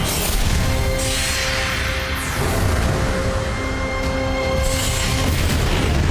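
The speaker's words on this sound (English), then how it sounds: "Thunderous explosion!" Explosion in My Hero Academia anime, a sustained loud rumbling blast with crashing roar that swells and rolls on for several seconds without a distinct single impact, no voices over it.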